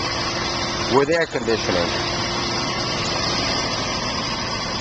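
A 1966 Ford Thunderbird with a 390 V8 idles steadily and evenly throughout, someone talking briefly over the engine hum near the start.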